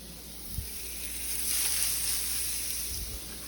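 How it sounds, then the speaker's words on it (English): Beef burger patties sizzle steadily in a hot pan, a broad continuous hiss with soft thuds as each patty is set down; no talking. "I'm gonna sit them in my pan, just like that."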